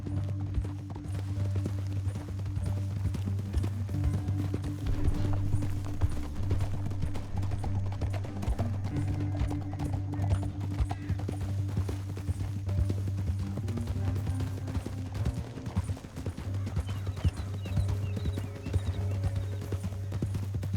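Horses gallop in a steady clip-clop across a canyon in the Red Dead Redemption 2 video game, hooves pounding continuously over a low rumbling backdrop, with an occasional neigh and no talk.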